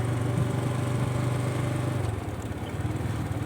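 A motorbike riding along a winding village field road, its engine a steady, loud, close drone throughout with no talk.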